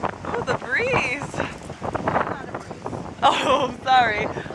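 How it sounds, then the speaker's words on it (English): Wind gusts rush past in bursts, whooshing against the microphone while people talk and exclaim over the noise. "The gusts! The gusts!"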